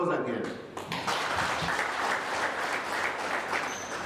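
An audience at an annual general meeting applauds steadily, a dense wash of clapping that swells and continues throughout, with a voice heard at the start.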